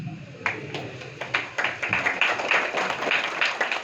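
An audience at a Bhagavad Gita talk breaks into scattered clapping, starting with a few separate claps and building into a loose, uneven patter of hands in a fairly quiet room.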